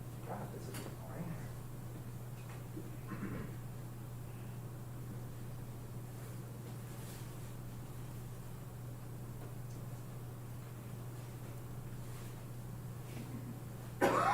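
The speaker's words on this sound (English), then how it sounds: "Now everyone's coughing." People cough in a classroom during a lesson, a few scattered short coughs and throat sounds over a steady low hum of room noise, fairly faint.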